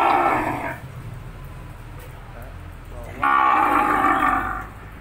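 Cattle at a breeding cattle farm in Phu Quy, Vietnam, give two long, loud moos close by, separated by a quieter gap of background noise.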